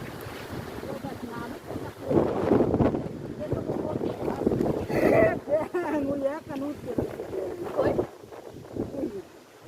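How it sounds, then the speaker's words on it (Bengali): Strong gusting wind sweeps across a flooded area during Cyclone Remal, a rough, rushing roar that swells and buffets the microphone while people talk loudly over it throughout. "আমাকে এইমাত্র বাতাসে ফালাই দিয়েছে"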